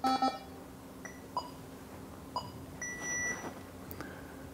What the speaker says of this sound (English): press and hold power and horn at the same time until you hear a beep